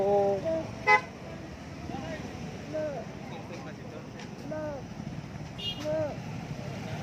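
Heavy road traffic on a busy route to a temple, with repeated short car horn toots near and far over a steady vehicle rumble while people talk throughout.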